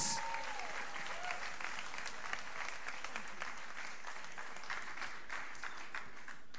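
A large audience at a fair-tax campaign event bursts into sustained, steady applause welcoming journalist Paul Mason, dense and even for the whole stretch with no voices rising above it.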